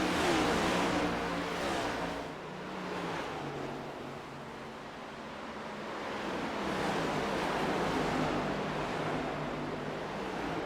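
Race cars in a Cup Series oval racing game at Nashville circle and pull into the pits, a dense continuous roar of engines that swells and fades as the pack passes, loud and without talk.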